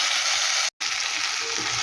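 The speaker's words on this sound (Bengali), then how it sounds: "এটা একটু ভেজে নিই আমি।" Kashmiri chili powder and ground turmeric fry in a spice paste for a sour-spicy mourala fish curry, making a steady loud sizzle with one brief break.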